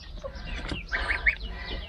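Geese give a few short honking calls close by, scattered honks and squeaks over a quiet rural background.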